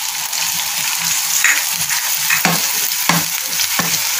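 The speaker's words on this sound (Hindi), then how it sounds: "इसको हल्का सा फ्राई करना है" Onions fry lightly in a hot pan with a steady, even sizzle, and a spoon stirs them in several short scrapes throughout.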